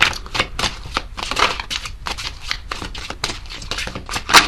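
Tarot cards being shuffled, a steady run of crisp riffling bursts and soft slaps repeating at a brisk, uneven rhythm, close and fairly loud, with no talking.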